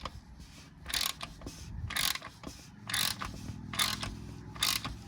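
Repeated ratchet clicking from tightening an oil bypass valve on a BMW X5M or Lincoln Aviator, in short bursts of about one second, spaced roughly a second apart, close and moderately loud with no talking.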